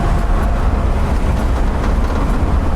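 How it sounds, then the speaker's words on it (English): Steady, loud broadband roar of wind and road noise inside a 1958 Volkswagen Transporter split-windscreen van on the move, a continuous low rumble with hissing airflow and no talking. "Hopefully the wind noise isn't too bad."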